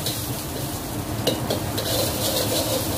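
Onion and garlic frying in oil in a pan for Indonesian-style fried rice (nasi goreng): a steady, close sizzle runs throughout with a few light stirring clicks, and no talking.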